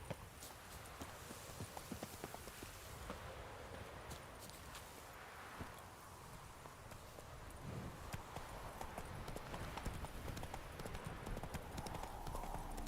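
Roach the horse's hooves clip-clop steadily through The Witcher 3, a continuous walking rhythm over rustling ambient noise at moderate loudness.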